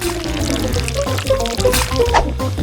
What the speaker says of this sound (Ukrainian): Наливаємо мед у склянку та перемішуємо з полуницею.